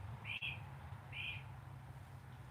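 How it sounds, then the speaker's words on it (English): A bird out in the open gives two short, high whistle-like calls about a second apart, clear over a steady low hum and quiet background. "sounds like a bird out there blowing a whistle"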